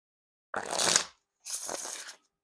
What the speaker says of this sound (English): You get those super smooth riffle shuffles and bridge shuffles